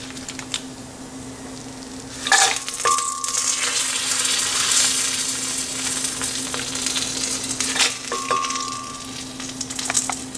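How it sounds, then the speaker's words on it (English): Dry chilies sizzle loudly in hot oil, the frying steady and close, with bursts of stirring and a low background hum. "Our dry chilies are getting brown color."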